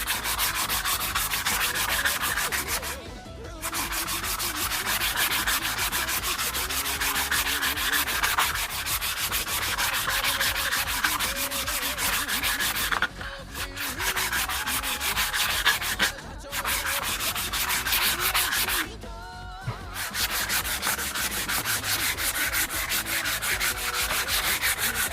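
Wooden bachi drumsticks are worked with 120 grit sandpaper in a continuous, close, dry rasping rub, broken by a few short pauses between passes.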